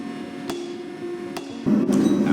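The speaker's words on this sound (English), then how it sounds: "Proceed with big hammer." Three sharp metallic hammer strikes on an anvil ring out at irregular intervals over a steady workshop hum while forging a Damascus steel blade, the last followed by louder broadband noise.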